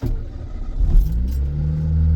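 A supercharged 1997 Subaru Vivio Bistro kei car engine cranks and catches, then settles into a close, steady low idle rumble with a slight rise in revs.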